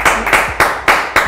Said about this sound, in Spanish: Este aplauso y reconocimiento hasta donde estén.